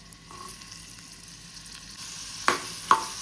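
Chopped onions fry in hot oil for egg burji, a faint, even sizzle that builds as a few utensil clinks and scrapes land near the end.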